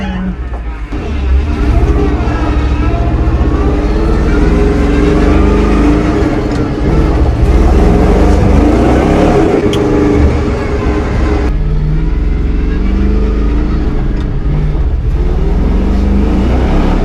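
A supercharged truck engine revs loud and close, holding a continuous roar that swells and eases without a break.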